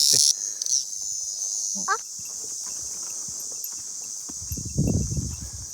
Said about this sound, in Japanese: まだ鳴いてるセミが。